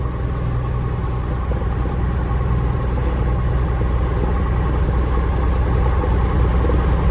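Cessna 172F Skyhawk aircraft engine running steadily, a loud, constant low drone with no speech over it.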